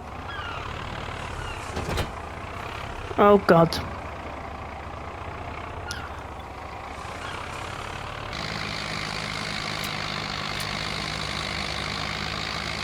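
A tractor engine from Farming Simulator 25 drones steadily as it drives, a low continuous rumble that thickens and grows louder partway through, with a brief exclamation from a voice over it.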